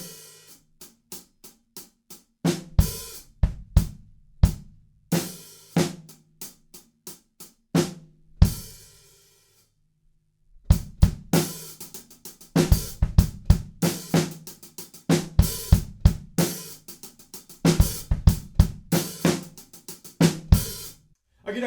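An easy two-handed drum beat plays as a repeating two-bar loop of kick, snare and hi-hat hits, punchy and close, with a brief pause partway through before the groove resumes alone.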